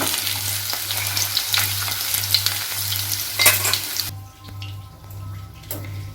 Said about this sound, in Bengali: সেদ্ধ হয়ে যাওয়া সবজিগুলো ভেজে নেব, একসাথে ভেজে নিচ্ছি